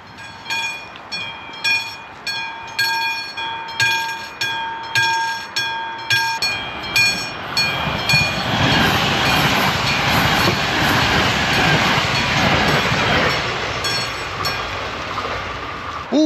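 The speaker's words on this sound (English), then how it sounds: "Oh, I think there's a train coming." A fast train passes close by on open track outdoors in Slovakia, a rhythmic clickety-clack of wheels over rail joints growing into a loud roaring rush of carriages before easing off.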